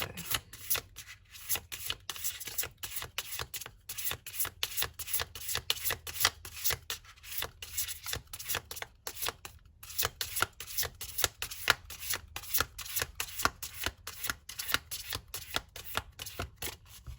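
Tarot cards are shuffled over and over in a quick, even rhythm of soft papery riffles and taps, close and fairly quiet with no voices.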